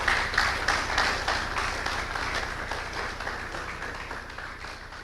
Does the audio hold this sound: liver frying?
no